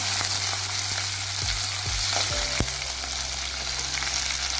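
Okra curry fries in a pan with green chilli as it is stirred, a loud continuous sizzle close up with a few spoon scrapes and clinks, and a low steady hum underneath.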